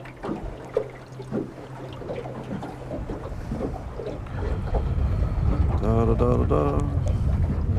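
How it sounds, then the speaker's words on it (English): Steady wind roars and buffets against the microphone on a fishing boat out on the water, growing louder midway, with faint boat and water noise underneath. "With the wind hitting me in the face"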